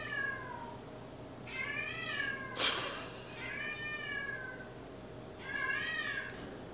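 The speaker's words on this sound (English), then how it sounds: "my cat does that. Literally every night." A cat meows three times, well spaced and moderately close, each call a drawn-out rising and falling wail over a low kitchen hum, with a short clatter between the first and second cries.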